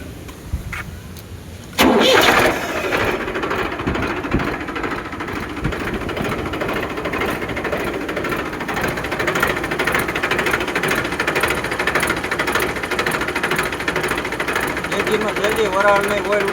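A Mahindra 395 tractor with a three-cylinder DI diesel engine cranks and catches about two seconds in, then runs loud and steady with a rough mechanical clatter for the rest of the clip.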